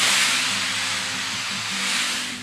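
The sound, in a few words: Shark Steam Mop Pro hissing steam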